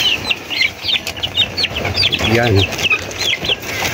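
Young chicks and chickens in a small backyard poultry pen cluck and chirp in quick, scattered high peeps, with someone talking over them.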